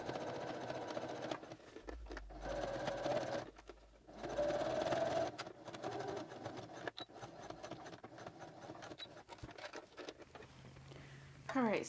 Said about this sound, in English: I'm going to switch out my twin needle on my other sewing machine to a smaller one.